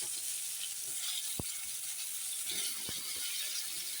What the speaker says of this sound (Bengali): এখন একই তেলে কড়াইতে এই যে বেগুনগুলো ভেজে নেব